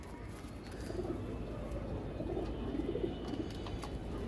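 Tagged pet pigeons coo in soft, repeated rumbling phrases, close by but quiet, against a low steady background hum.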